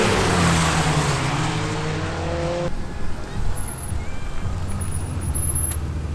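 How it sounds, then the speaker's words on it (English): BMW E36 running sighting laps on a wet track, a steady engine drone with hissing tyre spray, loud and close from start to finish under a constant wash of road noise. "with the driver's briefing done and the E36 off the trailer, it was time to go out for the sighting laps"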